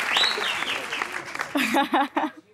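Studio audience applause welcoming a guest onto a TV talk show, a dense burst of clapping that fades out as a voice begins speaking over the tail end.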